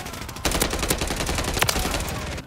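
Striker gun firing in Modern Warfare 3: a loud, close run of rapid shots in quick succession, with sharp cracks punching through a constant bed of game noise.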